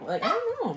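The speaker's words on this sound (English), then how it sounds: "Sorry if you hear my dog barking." A pet dog barks and whines indoors during a snack tasting, its short yips rising and falling beneath close, steady conversation.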